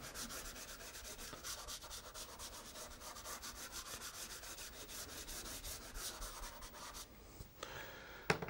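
Soft pastel rubbed into paper produces a continuous, fine, rhythmic scratchy rubbing, quiet and close, with repeated back-and-forth strokes and a brief pause near the end.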